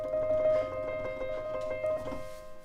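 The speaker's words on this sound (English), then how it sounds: "Trills sound like this" Notes on a keyboard trill back and forth in a quick, even alternation during a blues improvisation lesson, a steady sustained tone ringing clearly with no voices over it.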